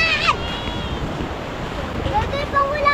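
Rough, windy roar of big surf and rushing water during heavy rain, wind buffeting the microphone, while voices shout over it.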